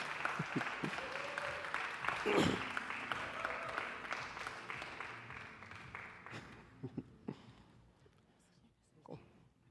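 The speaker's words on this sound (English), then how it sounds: "Can we please give them a very big round of applause?" Conference audience applauding panelists after a talk on design thinking education, the clapping dense at first, then thinning out into a few scattered claps with murmuring voices in the room.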